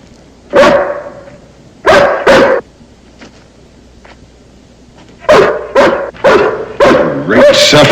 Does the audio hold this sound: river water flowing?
no